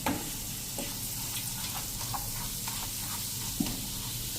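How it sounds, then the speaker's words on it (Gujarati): Spice paste for khatiya dhokla sautés in a pan over a low gas flame, giving a steady, even sizzle with a couple of faint clinks of stirring. "આવી રીતે પેસ્ટ સાંતળી લેશું"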